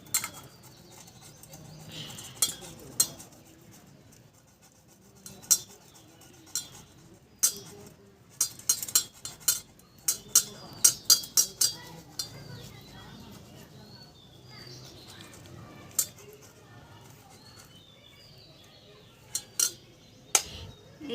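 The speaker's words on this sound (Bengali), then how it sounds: "তো সেদ্ধ করা নিয়ে ডিমগুলো আমি এবার গ্রেট করে নেব।" Boiled eggs rubbed against a metal kitchen grater, producing a series of short scraping ticks in uneven bursts, close and fairly faint, with some clattering and quiet room noise between them.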